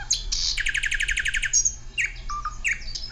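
A bird-chirp ringtone plays from a Sunbeam Juniper flip phone: a quick run of bright, evenly spaced tweets, then scattered, looser chirps and warbles, loud and close with no talking.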